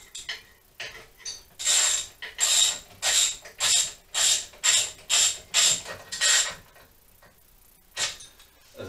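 A ratchet wrench tightening bolts on a Honda CBR400 frame and swingarm, with about ten evenly spaced, close clicking strokes in steady rhythm, then a pause and a final stroke.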